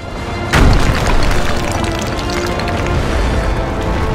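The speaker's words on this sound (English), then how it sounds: "We did not sign up for artillery fire." Artillery fire in the video game Sacred 3 lands as a heavy boom, followed by a sustained low rumble and crackling debris that keep going to the end.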